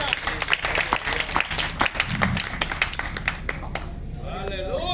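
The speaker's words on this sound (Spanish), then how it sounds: "Dale un aplauso al Señor." Congregation applauding in a church service, a dense run of claps with scattered sharper taps, steady for several seconds then thinning toward the end as voices take over.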